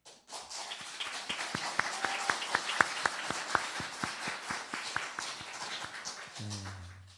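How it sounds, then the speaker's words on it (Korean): A church congregation applauds to welcome newcomers during a Sunday worship service, a dense, steady wash of many hands clapping for about seven seconds, with some sharper claps standing out near the front before it fades under a low tone. "우리 환영의 박수 한번 하도록 하겠습니다"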